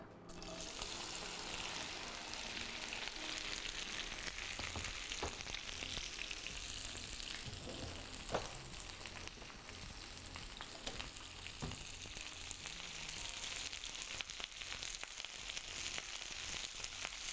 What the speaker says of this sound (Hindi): हाई फ्लेम पर ही हम इसको फ्राई करेंगे थोड़ी देर